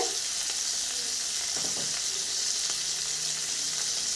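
Paneer cubes fry gently in butter with a steady hiss, joined by a few soft utensil scrapes, close by and without voices.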